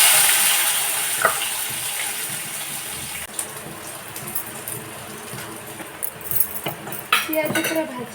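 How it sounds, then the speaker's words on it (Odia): Onions frying in a pan for a pakora curry, with a steady broadband sizzle, scraping stirs and clinks of a utensil against the pan, and occasional louder clatters near the end. "ପିଆଜ ପୁରା ଭାଜି ହେଇଗଲା"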